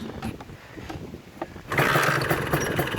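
A Suzuki Satria two-stroke motorcycle fitted with a Yamaha YZ125 ignition coil, stock carburettor settings, starts after a second and a half of quiet mechanical ticking, then runs loud and steady at close range.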